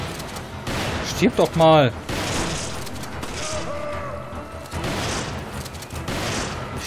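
Gunfire in the action game Resident Evil 5, bursts of shots and booms under excited talk from two players, with one loud cluster of blasts near the start.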